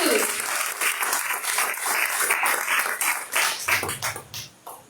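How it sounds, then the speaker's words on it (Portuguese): A church congregation at a Portuguese-language healing service claps together, the applause rising and falling in uneven bursts before tapering off, with scattered voices mixed in. "Com mais duas salvas de palmas."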